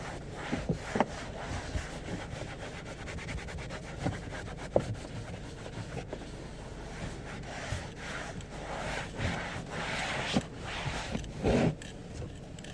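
Cloth rubbing and wiping across a dusty car dashboard, a soft continuous scrubbing with irregular strokes and small knocks, close and moderately quiet, with no talk.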